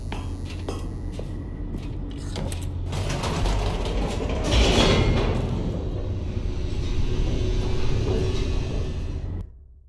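An elevator descends in The Stanley Parable, a steady creaking, ratcheting mechanical rumble with clanking gear noises that swells in the middle and then cuts off abruptly near the end.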